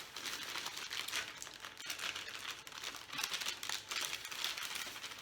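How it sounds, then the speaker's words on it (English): Crinkling and tearing of a boxed cake mix package as it is opened and the bag inside is cut, a close, faint, continuous rustle of paper and plastic. "I'm going to go ahead and open up my box cake here. Get it out. I'm going to cut it."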